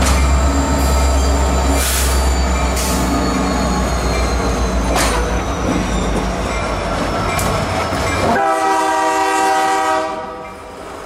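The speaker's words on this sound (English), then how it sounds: "Q601 is coming on west, and he's going to run right through that switch" A train rumbles loudly past at close range, wheels clattering through a spring switch, then a horn-like tone rings out near the end as the noise fades.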